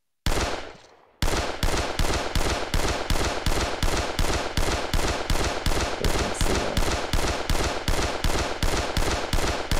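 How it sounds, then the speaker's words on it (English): Rapid, loud, sustained bursts of Gatling gun fire from the World of Guns game, a steady mechanical rattle of evenly spaced shots running almost the whole time after a brief quiet lead-in. "maybe I'm gonna fire it like this so you can see it's firing"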